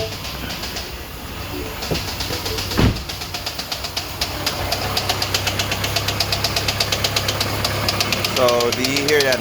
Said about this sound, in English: So do you hear that knocking? That's the knocking.